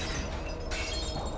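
Metal and glass shattering and tearing apart in a garage, a dense, loud, continuous crashing texture with a sharp shift midway, no voices.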